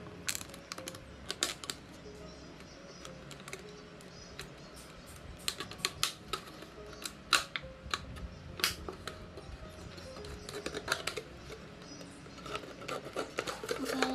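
A notch is cut into a fruit-picker pole with a run of sharp, close clicks and taps, irregular and fairly quiet, spread across the whole stretch.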